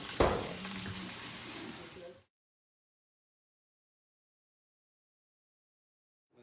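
Zucchini fries in hot oil the traditional Italian way. A sharp pop opens a brief burst of close crackling sizzle lasting about two seconds, followed by near silence.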